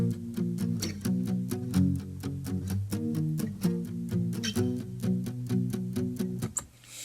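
Recorded guitar part for a dance verse, rhythmic plucked chords repeating in short even strokes with clear harmonic tones, played alone and fairly loud, ending with a brief downward strum.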